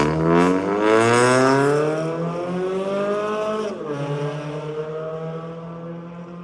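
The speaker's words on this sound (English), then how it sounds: "If your car sounds like that, and it's lowered to the ground, and it's like a Honda Civic" Loud engine revving in rising and falling sweeps from a lowered car, compared to a Honda Civic, strong and close with no talk.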